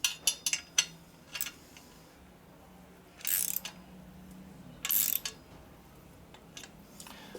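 A ratchet clicks in short bursts while tightening bolts on a 1988 Harley-Davidson FXR, quick metallic clatters near the start and two longer ratcheting runs later, close in a quiet space, no talk.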